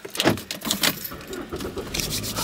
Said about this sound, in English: Y'all, let me crank this car up.